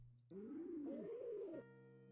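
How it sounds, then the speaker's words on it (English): A bird coos in the Cube Escape: Harvey's Box video game, one smooth rising-and-falling call about a second long over quiet ambient game music. "There's the bird"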